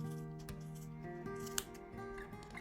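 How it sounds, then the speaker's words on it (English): Scissors snip through wound yarn on a pom-pom maker, a few faint crisp cuts over a quiet room with a steady background hum. "I'm going to cut both sides."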